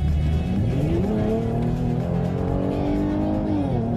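A 2017 Mercedes GLE Coupe 43 AMG, a heavy SUV, accelerates hard with a loud, sustained engine roar that climbs steadily in pitch through the gears, close and continuous, with possible tire noise and no talk over it.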